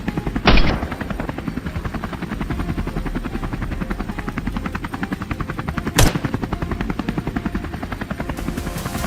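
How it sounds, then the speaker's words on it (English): Helicopters fly low over California farmland, a loud continuous rotor thump with a fast, even chop, joined by a couple of sharp bangs. "The helicopters roared into the sky, shattering the usual calm."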